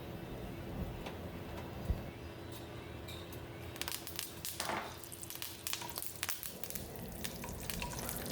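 Finely chopped ginger and green chilies frying in hot oil as tempering for kuthiraivali pongal, a soft steady sizzle with scattered crackles and pops, close and fairly quiet.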